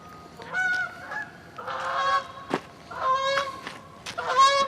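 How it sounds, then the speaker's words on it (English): Geese honk repeatedly in overlapping bursts outdoors in warm late-season weather, loud and fairly close, with short pauses between calls and no talking. "Even the birds haven't left."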